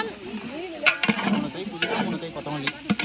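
Mint being stirred into a 6 kg batch of mutton biryani in a large pot outdoors on a mango farm, with scraping ladle strokes and soft sizzling, occasional sharper clanks, under faint background voices.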